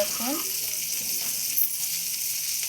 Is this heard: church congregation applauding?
no